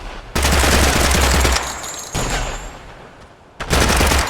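Sustained automatic gunfire from a 5.56 and .30-06 weapon test in Project Silverfish, loud dense bursts with short gaps between, fired in repeated strings.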